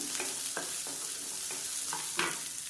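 Garlic cloves and vegetables sauté in a pan for a guava chutney: a steady soft sizzle runs throughout, broken by regular scraping stirs of a spoon at close range.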